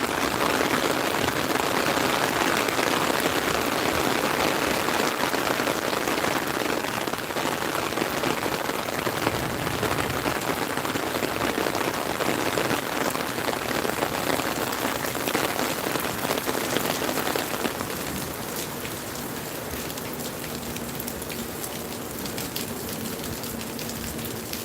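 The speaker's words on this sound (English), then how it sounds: "Yeah, we're getting some rain and thunder here." Steady rain falls at Cypress Slough Preserve in Florida, a dense, even hiss of drops on surfaces that continues throughout and softens slightly toward the end, with no voices.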